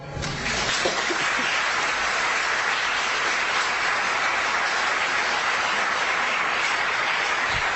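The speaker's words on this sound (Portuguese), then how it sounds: "Aplauda ao Senhor" A church congregation applauds in a steady, dense wash of clapping that holds without a break from start to finish.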